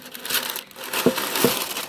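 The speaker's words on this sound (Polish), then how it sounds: "Wyciągam papier, wyrzucam." Baking paper is pulled out of a Cosori air fryer and crumpled, giving close, crisp crinkling bursts with two sharper crunches toward the end, no voices.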